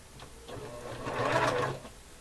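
A sewing machine runs one short, soft burst of stitching as quilt blocks are joined into a row, rising briefly and then stopping.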